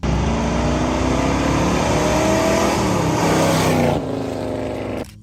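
A 1970 Chevrolet Chevelle SS 454 muscle car's V8 engine roars loudly and revs up, its pitch climbing, before the engine note drops off abruptly near the end.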